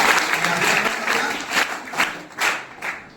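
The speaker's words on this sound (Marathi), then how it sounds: "तिचा आपण जोरदार टाळ्या वाजवून एकदा स्वागत करूया" School audience at an installation ceremony clapping to welcome the outgoing president, a brief burst of dense applause that swells in waves and fades.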